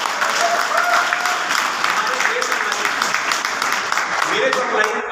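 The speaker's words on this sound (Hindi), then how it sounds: "एक बार ताली बजा दीजिए उनके लिए।" A hall audience at a Modicare achievers gathering breaks into sustained, dense applause for Malik sir, steady and loud across the whole stretch, with voices mixed into the clapping.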